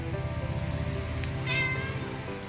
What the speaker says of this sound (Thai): แมวขาวดำของเราทองหยิบกับทองหยอด